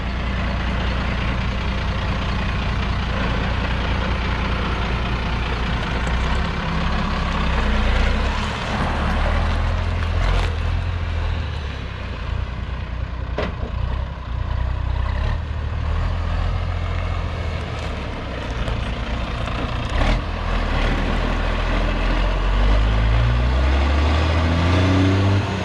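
A turbocharged Loadstar truck drives past with a loud, steady engine drone and low rumble throughout, the pitch rising toward the end as it accelerates.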